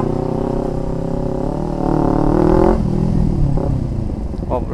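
A nearby motorcycle engine revs loudly, pitch climbing and holding before dropping off, with clattering engine noise trailing afterward.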